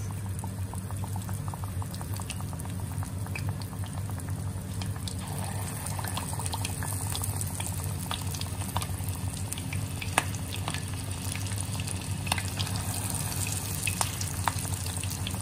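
Shrimp tempura frying in hot oil gives a steady, low bubbling sizzle that holds at an even level throughout, with no voices.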